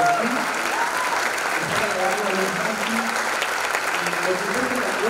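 Crowd applause for the performers at a fifth-anniversary breakdance show, steady clapping that runs throughout with voices speaking and murmuring over it.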